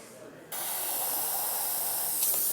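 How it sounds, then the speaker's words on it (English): An airbrush sprays cleaning fluid into paper towels stuffed in a cup, a steady close hiss that starts abruptly after a short quiet moment and holds evenly, then sputters briefly as it stops. "Usually to clean out my airbrush, I use a couple paper towels, stuff them into a cup"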